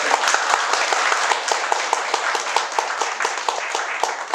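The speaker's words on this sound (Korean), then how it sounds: "따뜻하게 박수 한번 주시죠" Audience applause at a Korean concert gathering during a welcome and guest introduction: dense, steady clapping from many hands with crisp individual claps, filling the hall at an even level throughout.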